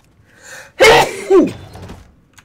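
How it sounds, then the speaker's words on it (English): A single sharp sneeze, preceded by a brief breathy inhale, close to the microphone and loud. "Sorry, sneeze."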